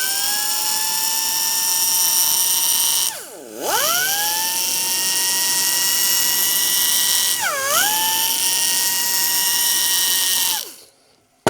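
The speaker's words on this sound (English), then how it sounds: "In the hard to reach spots or deep cuts like this, I'll usually use a carbide bit or something similar like that to grind." Rotary grinder fitted with a carbide bit, a loud, close, high-pitched whine held steady, dipping briefly twice as it slows under load or lifts off, then winding down to stop at the end.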